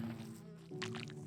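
Bees from the Minecraft Allthemods 10 modpack buzzing in a steady, close insect drone for over a second, with a brief rise in intensity partway through and no talking.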